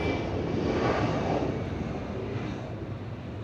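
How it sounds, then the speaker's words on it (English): A jet airliner rolls out after landing at Atlanta's airport, its engines producing a loud, steady broadband roar with a hiss that slowly eases off over a few seconds, with no voices. "that's a plane that just landed"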